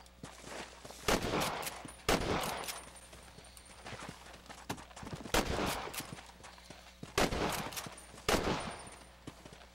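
Rapid bursts of gunfire crack repeatedly in Red Dead Redemption on PS3, with loud volleys of several shots at a time separated by brief pauses, alongside faint hoofbeats.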